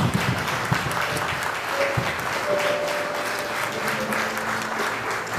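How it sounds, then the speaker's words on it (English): Applause from a church audience at a service honouring a reverend and his wife, moderate and steady, filling the whole stretch without pause. "big round of applause"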